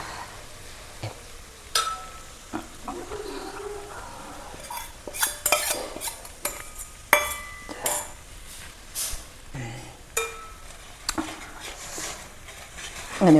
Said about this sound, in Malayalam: നമ്മളത് ഉരുളിയിലേക്ക് ഒഴിച്ചിട്ട് നന്നായിട്ട് ഇളക്കി കൊടുത്താൽ മതി.